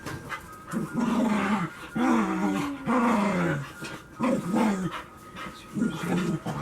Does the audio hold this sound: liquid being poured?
no